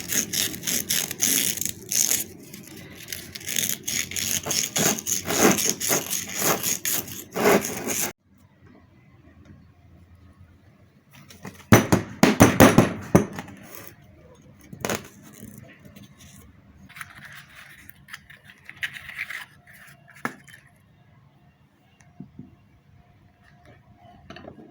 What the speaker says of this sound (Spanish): Aquí con una lija es bien importante limpiar todo el óxido